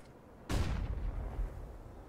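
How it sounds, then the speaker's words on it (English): A flashbang grenade detonates in CS:GO as one sudden loud boom, followed by a rumbling decay that lasts about a second and a half, heard alone over quiet background. "Deploying flashbang"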